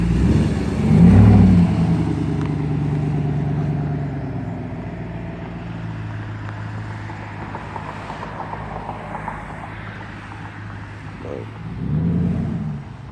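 A Dodge Ram Hemi V8 with a Y-pipe muffler delete rumbles at idle with a deep steady burble, swelling into short revs near the start and again near the end.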